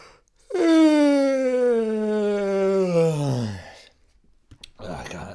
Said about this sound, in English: I got a lot of yawns, in me.